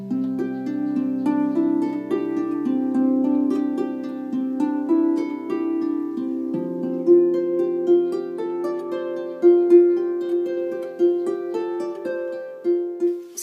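Double strung harp playing a contrary crystal pattern, the two hands moving in opposite directions: bright plucked notes ringing over a steady low bass, played alone at an even, flowing pace.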